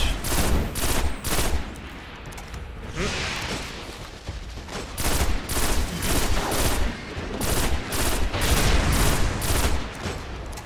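Rapid hand cannon shots ring out in the video game Destiny, a steady string of sharp, loud cracks and booms that keeps going through the whole stretch, with brief talk mixed in.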